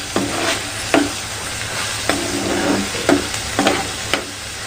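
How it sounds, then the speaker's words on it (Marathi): Ground masala paste sautés in oil for a spicy fish curry, giving a continuous sizzle with a spoon scraping through it in regular strokes about once a second, close and clear, with no voices. "तेल सुटेपर्यंत हे वाटण मी परतून घेणार आहे."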